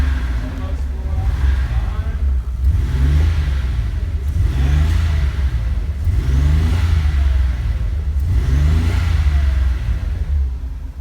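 A Nissan 280ZX drag car engine runs and revs in repeated swells, turbo spooling as each rise builds and falls back, loud and close with a rough idle between pushes.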